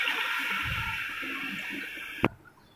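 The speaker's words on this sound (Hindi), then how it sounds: "1 किलो चावलों में 4 गिलास पानी के डालेंगे।" Water streams steadily into a cooking pot of chicken pulao for about two seconds, then stops with a clunk of the vessel, leaving a quiet kitchen.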